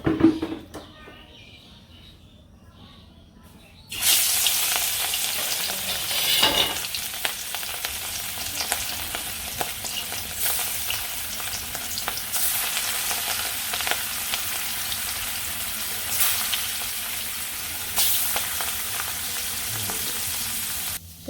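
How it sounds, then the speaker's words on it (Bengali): Fish frying in hot oil in a village kitchen, a steady loud sizzle that starts abruptly after a few quiet seconds and continues throughout, with occasional crackling bursts and faint bird calls in the background. "তেল গরম হয়ে গেছে এখন মাছগুলো দিয়ে নিই"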